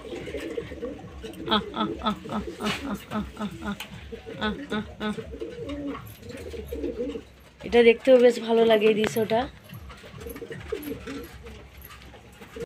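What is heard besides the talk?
pigeons cooing while feeding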